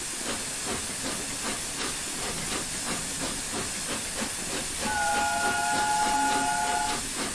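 Flying Scotsman steam locomotive in the Train Sim video game pulling away, loud steady hissing with rhythmic exhaust chuffs, then a sustained steam whistle note joins near the end.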